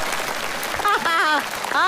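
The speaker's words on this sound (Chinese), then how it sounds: "我听那个掌声还挺热烈的" An audience at a comedy stage show applauds, a dense wash of clapping that runs beneath a voice speaking over it.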